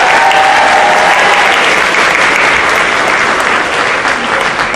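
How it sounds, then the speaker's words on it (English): Loud, dense audience applause fills a World Language Awards Night hall, sustained clapping from a sizable crowd that tapers slightly toward the end. "One more round of applause for Rhea Kanzra for speech and debate"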